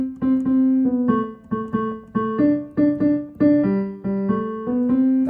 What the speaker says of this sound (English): That's called swinging the eighth notes